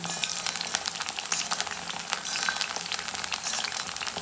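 Mushroom (kaalan) pieces deep-frying in hot oil for a road-side street food dish give a steady, close crackling sizzle that runs throughout without speech.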